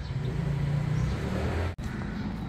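A Porsche drives past on a quiet residential street in Bangkok, its low engine hum rising and then fading, heard alone with no talk.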